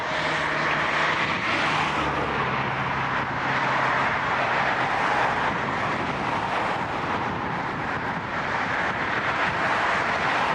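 An airplane takes off from a runway at Toronto Pearson airport, with a loud, steady engine roar that stays constant for the whole stretch and has no voices over it.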